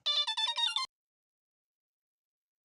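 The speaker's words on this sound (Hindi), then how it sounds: "फिर से माँ का फोन।" A mobile phone ringtone plays a short melodic electronic ringing burst, clear and close, then stops abruptly, followed by silence and a brief start of another sound at the end.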